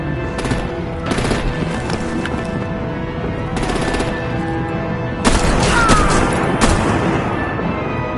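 Machine gun fire in a Batman video game, loud close bursts of rapid automatic shots in several separate volleys, with the final burst heaviest over a constant rumbling background.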